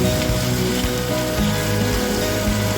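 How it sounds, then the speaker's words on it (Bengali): Ginger, garlic and green chilli fry in oil in a kadai, a loud, dense crackling sizzle close up with scattered soft stirring bumps, no talking. "আবার ওই কড়াইয়ের মধ্যে সামান্য একটু তেল দিয়ে আদা আর রসুন কুচিটা দিয়ে দিলাম।"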